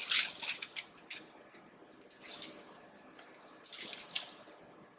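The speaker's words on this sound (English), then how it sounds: "Your parchment paper, tear it up." Parchment paper is torn up in a kitchen while Jamaican curry powder is being made, giving several bursts of crisp crinkling and ripping at close range, fairly quiet, without talk.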